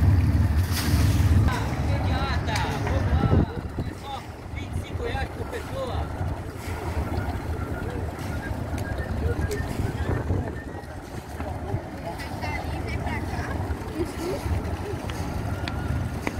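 Tour boat engine running on the water at Beira Mar Norte in Florianópolis, a low steady rumble mixed with wind buffeting and water wash, with people talking over it.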